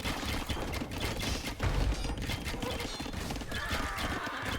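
Hooves clop in quick rhythm as a scouting horse unit, disguised as a farming horse, moves behind enemy lines in a strategy video game, mixed with faint battle clatter and background game effects at moderate loudness.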